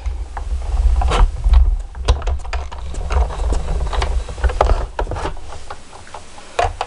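A Big Shot die-cutting machine is hand-cranked through a card project, giving a run of irregular clicks, ticks and ratcheting knocks over a low rumble, close and fairly loud.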